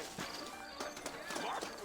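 Horse hooves clip-clop at a trot with a brief whinny, set against a busy game-world ambience in Red Dead Redemption.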